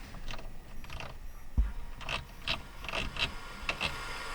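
Inside a Ford Escape, the power windows run with faint mechanical whirring and ratcheting clicks, several short motor bursts in close succession, quiet and near with a low background hum, no one talking.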